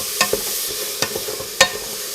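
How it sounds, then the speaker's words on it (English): Finely chopped yellow onion stirred into beef fond in a pan over medium heat, with a soft sizzle under three sharp scraping knocks of the spoon, close and without talk. "I'm going to add 1 yellow onion, finely chopped,"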